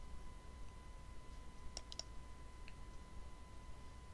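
A single computer mouse click on an on-screen button, two or three faint, quick ticks close together against a quiet room hum, alone with no talk.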